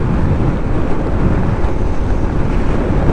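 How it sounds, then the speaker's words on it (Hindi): Strong cold wind buffets the microphone during a ride on a road trip toward Saharsa, a loud, continuous low roar with no break and no voices. "हवा तेज़ है, ठंडी हवा चल रही है।"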